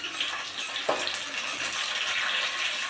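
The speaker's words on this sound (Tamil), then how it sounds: "நல்லா வதக்கணும்." Onions sauté in a pan with a steady bright sizzle, close up, and a single short scrape of a stirring spoon early on.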